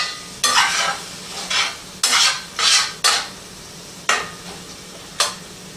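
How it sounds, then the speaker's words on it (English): Beef filling for flautas in a pan, with a soft sizzling simmer beneath repeated scraping strokes of a utensil stirring, about seven separate stirs spread unevenly over a few seconds, close and fairly loud. "I'm going to turn this down to simmer."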